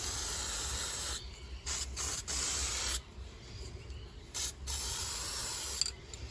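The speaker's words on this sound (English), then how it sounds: "just give it a quick spray" Aerosol can of high-heat spray paint hissing onto a lawn mower muffler during a restoration of a two-stroke alloy-bodied Victa Silver Streak, in several close bursts separated by short gaps.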